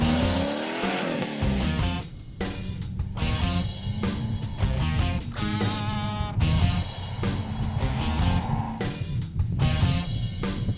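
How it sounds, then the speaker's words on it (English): A twin-turbo C6 Corvette engine roars and revs hard up and down through repeated gear changes through curves, loud and close, with tires squealing at moments. "Pushing the car through the curves is a lot of fun"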